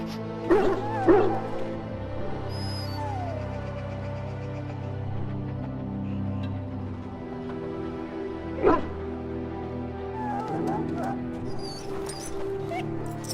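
A dog in Dragon Age: Origins whimpers and gives a few soft yips over a steady low game soundscape, with brief louder bursts near the start and middle.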